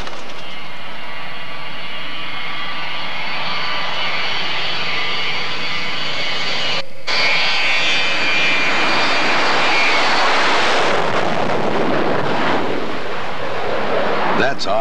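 Jet engines of a Boeing 727 roar steadily during takeoff, the whine building and broadening into a loud, sustained rumble that swells toward the end, with no speech over it.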